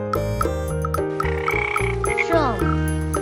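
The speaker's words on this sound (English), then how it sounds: "Frog," A frog croaks in a steady, loud, rhythmic series of calls over a soft musical backing, with no talking.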